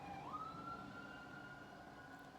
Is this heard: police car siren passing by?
yes